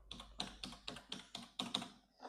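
Rapid keystrokes on a computer keyboard as a mobile number is entered, a steady run of close, crisp taps in quick rhythm with brief pauses, heard alone without speech.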